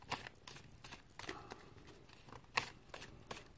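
Quick riffling card shuffles, a few bursts of crisp flutter and soft snaps at close range, fairly quiet with no talking.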